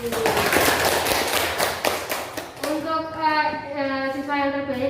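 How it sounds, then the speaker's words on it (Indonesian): A classroom of pupils claps for the top quiz group, a brisk burst of hands for a couple of seconds, followed by children's voices singing or chanting together. "Tepuk tangan untuk kelompok DING, kelompok terbaik"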